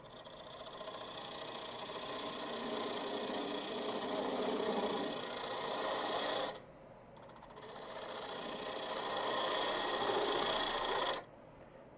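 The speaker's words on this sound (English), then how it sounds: "I'm going to use a spindle gouge because it's handy." A spindle gouge cuts a tenon on a wood lathe for a segmented box, making a steady rasping, whirring scrape in two long passes separated by a short pause, close and fairly loud.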